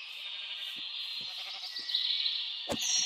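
Sheep bleating in the video game Minecraft with the TerraFirmaGreg modpack, several short repeated bleats close together over a steady bright ambient background, with a sharp louder bleat near the end.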